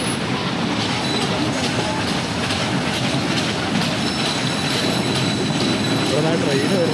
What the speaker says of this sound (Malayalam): ഇവിടെ ട്രെയിൻ വരുന്നതാണ് ഭയങ്കര ഭംഗി